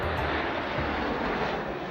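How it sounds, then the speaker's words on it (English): A 70-year-old propeller aeroplane flies in the Queen's birthday flypast at Trooping the Colour. Its engine gives a steady, loud broadband drone that holds without a break for the whole stretch. "She's a 70-year-old aeroplane."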